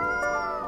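A cat meows in the Coffee Talk video game, one short tonal call with a harmonic shape that stays near and clear across its whole length. No one speaks over it.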